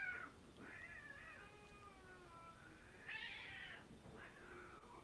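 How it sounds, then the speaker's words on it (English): A cat under a house lets out long, wavering yowls and screeches with hissing, several drawn-out cries in a row, fairly faint and distant with no talking. "There was a cat that just like screamed and screeched and hissed"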